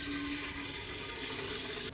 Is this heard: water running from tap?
yes